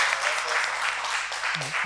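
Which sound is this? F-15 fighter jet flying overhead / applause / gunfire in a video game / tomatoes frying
applause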